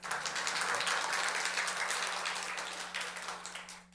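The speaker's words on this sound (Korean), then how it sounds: "박수라도 제대로 쳐야 될 거 아니야" A church congregation applauds during a Sunday service, giving sustained, even clapping from many hands that tapers off at the very end.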